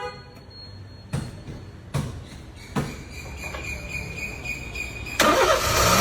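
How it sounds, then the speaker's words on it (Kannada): A Honda City fitted with a push-button starter gives a few sharp clicks and beeps before the engine catches near the end and settles into a steady idle, with insect chirping in the background. "ಇವನ್ ವೆಹಿಕಲ್ ಸ್ಟಾರ್ಟ್ ಮಾಡ್ಬೋದು"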